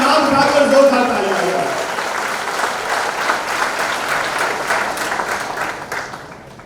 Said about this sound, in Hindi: हाथ उठाकर, हवा में हाथ उठाकर जोरदार तालियां